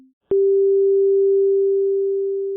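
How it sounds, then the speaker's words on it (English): A brief click, then a single pure, steady electronic sine tone a fifth higher, three times the base frequency, that holds for about two seconds, loud and clean, fading only slightly. "And this one 3 times as fast, which is a fifth higher than that."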